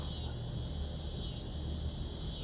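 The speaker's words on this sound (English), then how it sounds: "Cicadas are out, guys." Cicadas buzz on a summer evening in a steady, high, continuous drone that stays fairly faint and unbroken throughout, with no voices over it.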